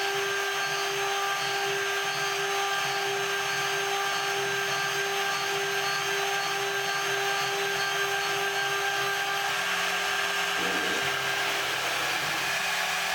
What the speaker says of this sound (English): Despite sounding relatively quiet, a lot of heat is still generated in the machining process